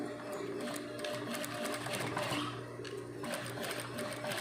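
A sewing machine stitching a trubenized shirt collar whirs in a steady, rapid mechanical rhythm with a continuous motor hum, running nonstop at close range and fairly faint.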